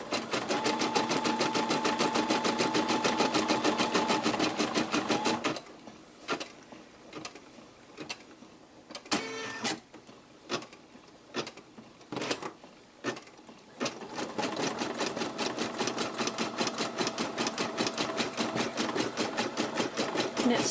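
An embroidery machine stitches a caterpillar applique onto a shirt, its fast needle chatter running steady and loud, pausing into scattered clicks and thumps for several seconds mid-way, then resuming its rapid continuous stitching.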